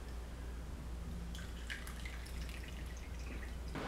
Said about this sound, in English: now we can add some water